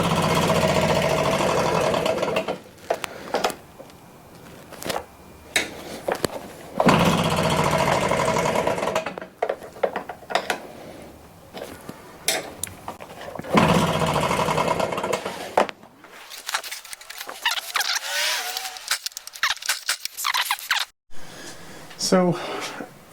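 A Stihl BR600 backpack blower with a bad cylinder is revved to full throttle in loud, surging bursts between drops toward idle, with brief sputtering near the end.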